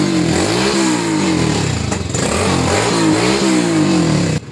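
A Rusi Surf motorcycle with a slipping starter chain and a previously locked engine runs loud and close, holding a rough idle and then revving up twice before settling.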